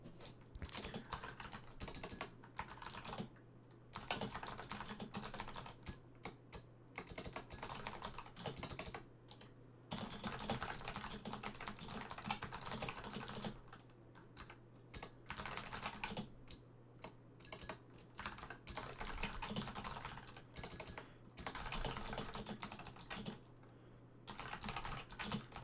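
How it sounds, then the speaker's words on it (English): Continuous bursts of typing on a computer keyboard, fast clattering keystrokes in runs separated by short pauses, close and fairly quiet over a steady low hum, with no one talking. "I'll just type it out right now."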